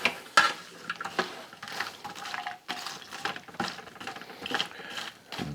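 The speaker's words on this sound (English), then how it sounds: "Stir them around a little bit." Deep-fried peanuts being stirred in hot oil, with scraping and clinking of a utensil against the pot over a soft sizzle, in irregular close strokes.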